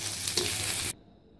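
Mashed egg fries and is stirred in a pan with a close, steady sizzle that cuts off abruptly after about a second.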